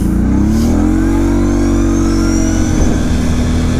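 Kawasaki KFX 70 quad engine revving while being ridden on a road, a loud close buzzing drone that rises in pitch and then holds steady, with wind noise and no talk.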